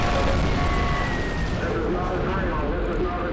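Nuclear missile launches and impacts in the strategy game Supreme Ruler Ultimate, heard as a steady, loud wash of rumbling blast noise that fills the whole stretch, with dense low crackle and no clear pauses.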